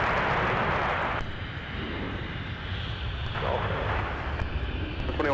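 An airliner rolls for takeoff on runway 17 at Minneapolis–St. Paul airport, a broad, steady engine roar with a rushing hiss, heard from a distance while an air traffic radio voice talks over it.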